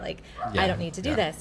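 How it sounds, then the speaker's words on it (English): A pet dog barks and yips in short bursts in the room, partly under a person talking close by. "Sorry if you can hear my dog barking."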